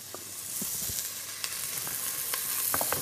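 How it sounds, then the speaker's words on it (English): Onions sauteing in chorizo fat in a hot pan crackle with a steady sizzle, dotted by scattered sharp pops and spits throughout, close and moderately loud. "using some of that chorizo fat, we're going to saute our onions with the carrots and the pumpkin"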